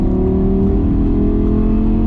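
An Audi R8 V10 Spyder engine roars steadily at close range, a sustained revving drone with a fairly constant pitch, holding speed under acceleration while overtaking.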